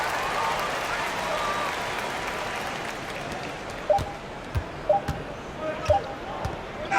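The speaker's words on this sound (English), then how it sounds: "So the home crowd happy here as they get the victory." A home crowd in a basketball video game applauds and cheers in a steady wash that fades, while a basketball bounces in sharp rhythmic thuds and a commentator talks over it.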